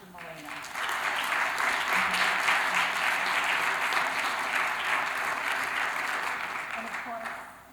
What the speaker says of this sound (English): we would like to give a round of applause to Georgia Moreno.